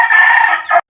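A grey gamefowl rooster, Kelso Gilmore crossed with Skinny and Asil lines, lets out a short, loud, close crow lasting under a second and ending abruptly.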